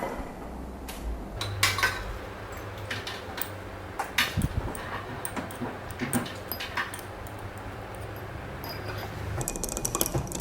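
Metal spoon clinking and scraping in a cup as Vietnamese coffee is stirred together with sweetened condensed milk, giving irregular light taps and clinks over a low background hum.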